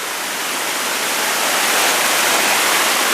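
A waterfall rushes in a steady broadband roar, close and loud, with no voices, building slightly in intensity.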